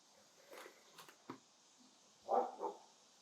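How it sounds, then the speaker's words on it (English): A few distant dog barks and yips, sparse and faint, scattered across a quiet background with two louder barks near the end. "They have no idea what they're barking at"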